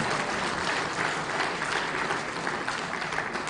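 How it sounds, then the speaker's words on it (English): Sustained applause from an audience at an Association for Consulting Engineering in Nigeria event as organizing committee members rise, a steady dense wash of clapping throughout with no distinct voices. "let's keep clapping as they all rise"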